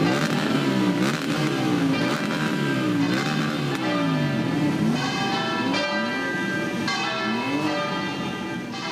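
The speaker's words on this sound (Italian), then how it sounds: "è stato proprio il rombo di auto sportive e moto a salutare il feretro" Sports cars and motorcycles rev and roar at a funeral, engines rising and falling in repeated sweeping pitches, loud and steady throughout, with a bell-like ringing tone mixed in.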